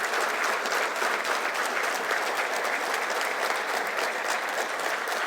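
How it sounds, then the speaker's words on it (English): Audience applause during an address by the Chief of Army Staff at IIT Madras, a continuous, even roar of many hands clapping at moderate distance, sustained without breaks and with no voices over it. "Let us start with a round of applause"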